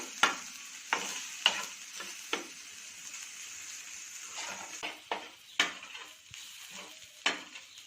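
Tomato pieces frying in a pan for pav bhaji, a soft steady sizzle under repeated sharp clinks and scrapes of a spoon stirring against the metal at irregular intervals.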